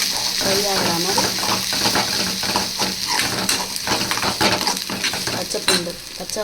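Ginger and garlic fry in a pan with a continuous loud sizzle, broken by scraping and clinking as a spoon stirs against the metal.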